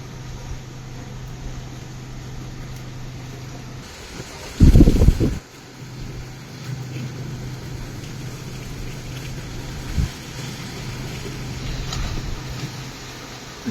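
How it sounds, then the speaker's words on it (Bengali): Steady cyclone wind from Cyclone Remal rumbles and hisses against the microphone at night in Bangladesh, with a sharp, loud buffeting gust partway through and smaller gusts later. "তার জন্য এত জোরে জোরে বাতাস"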